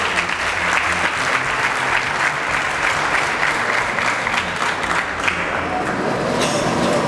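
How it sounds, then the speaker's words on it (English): Audience at a public lecture on anti-corruption breaks into sustained, loud applause, a thick continuous clatter of many hands that thins out toward the very end. "we have to clap for ourselves as a country"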